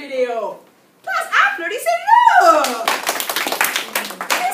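Applause breaks out in a French class, dense clapping rising after a teacher's spoken prompt, with students cheering and calling out over the claps.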